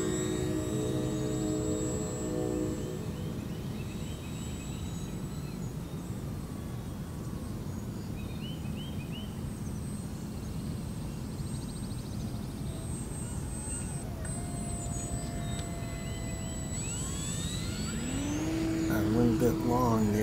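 An E-flite T-28 park flyer RC model airplane flying slow on a 3S or 4S battery gives a steady, thin electric motor whine over continuous rushing wind, holding fairly even throughout before swelling louder near the end as it passes closer.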